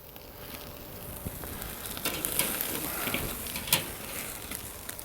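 Wagyu NY strip steak sears on a charcoal kettle grill with a steady close sizzle, a few crackles and a light metallic tap of tongs, with no talking.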